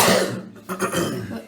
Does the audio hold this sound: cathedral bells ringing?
no